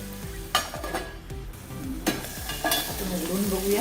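Tomatoes roasting in a hot pan for a chutney, a continuous sizzle with repeated scraping and stirring strokes of a utensil and occasional clinks against the pan.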